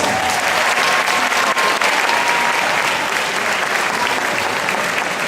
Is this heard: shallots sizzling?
no